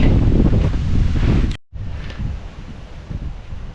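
Strong wind sweeps across an open farm field, roaring and buffeting the microphone in heavy rumbling gusts, briefly cutting out before the blustering resumes at a slightly lower level.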